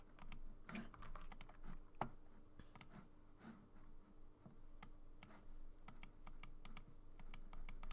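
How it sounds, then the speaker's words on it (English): Quick, light clicks of a computer mouse tap out in irregular bursts and rapid runs during a live digital sculpting session, close and crisp over a quiet background. "basically mouse clicking ASMR right now with all the little details."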